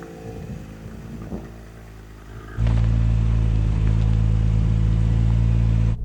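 A BMW or Porsche driven off-road over a hill, engine noise swelling abruptly into a loud, sustained low rumble that stays heavy and close until the end.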